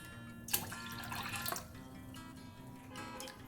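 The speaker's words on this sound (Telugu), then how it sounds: "రెండు చెంబులు నీళ్ళు పోసుకొని వేడి చేసుకోవాలి" Water is poured into a cooking pot for heating while semiya payasam is being made, giving faint splashing and trickling with a couple of brief louder splashes.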